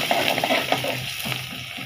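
Garlic and onion frying in a pan, a steady close sizzle with faint stirring scrapes throughout, no voices.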